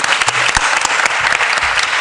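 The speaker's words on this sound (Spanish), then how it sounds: "Un gran aplauso a los tres." Audience at a literature congress applauding three speakers, a loud dense burst of clapping with a few nearby distinct claps and low background murmur.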